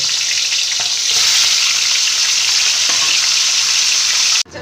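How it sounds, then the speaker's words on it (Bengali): Rohu fish head frying in mustard oil in a wok, a loud, steady, close hiss and crackle of hot oil that continues without talk until it cuts off abruptly near the end. "মাছের মাথাটা ভাজার জন্য কড়াইতে সর্ষের তেল দিয়ে দিয়েছি"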